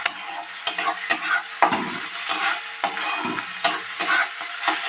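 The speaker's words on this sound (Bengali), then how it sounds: "পেঁয়াজটা আর আদা রসুনটা একটু ফ্রাই হোক" Onion, ginger and garlic frying in a pan for a Bengali snakehead fish curry, giving a close sizzle broken by repeated sharp spatula scrapes and knocks in an uneven rhythm. No voices are heard.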